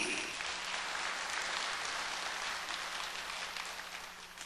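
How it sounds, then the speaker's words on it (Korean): Church congregation applauds during a Sunday sermon, a faint, even spread of many hands clapping heard from a distance that fades slightly at the end. "박수 좀 해요."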